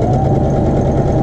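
A sewing machine runs a back stitch along the hem of a child's shorts, producing a brief, loud, steady mechanical whir with a fast, even stitching rhythm and no talking.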